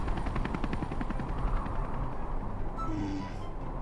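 Helicopter in the video game Henry Stickmin Collection, a steady rotor thrum with rapid chopping pulses, loud and continuous throughout, with a brief higher-pitched whine near the end.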